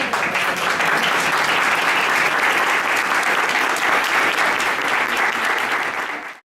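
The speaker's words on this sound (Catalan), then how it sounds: "jo faria un fort aplaudiment" A crowd gathered for the lighting and inauguration of a Christmas nativity scene breaks into loud, sustained applause, dense and steady for about six seconds before cutting off abruptly.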